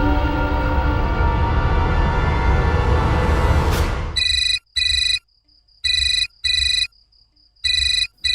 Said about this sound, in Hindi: गौरी का फोन